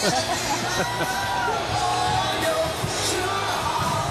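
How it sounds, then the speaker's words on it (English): An excited crowd yells and whoops along the route of the Houston Astros World Series parade, a steady loud roar of cheering from many people throughout. "The crowd's so excited."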